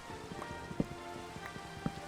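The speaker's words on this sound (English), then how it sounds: "And it's already raining." Steady rain patters in a Minecraft world, a dense even hiss of falling drops with a few louder splatters standing out now and then.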